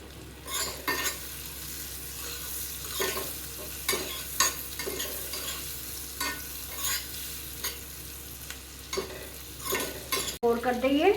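Chhole, a chickpea curry with kasuri methi, green chili and julienned ginger, stirred as it fries in a pan: repeated scraping strokes over a soft sizzle, steady and close, with no talking.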